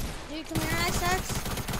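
Rapid automatic gunfire from a PS4 shooter game, a fast run of bursts under a player talking over it.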